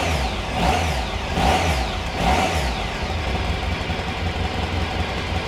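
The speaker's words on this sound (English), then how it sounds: "You mind giving me a couple revs if you would?" An engine revs up and down in three quick bursts, rising and falling in pitch, then settles into a steady rumbling idle.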